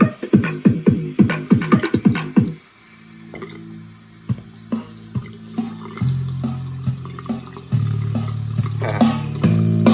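Water gurgles and splutters out of a cheap soaked Bluetooth speaker, a burst of rhythmic sputtering pulses followed by steadier bubbling and dribbling, close and fairly loud with no talking.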